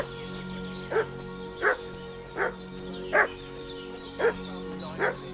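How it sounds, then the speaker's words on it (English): A dog barks in a steady series of about seven sharp woofs spaced under a second apart, fairly close, over a low constant background hum with no talking. "What's that dog making such a fuss about?"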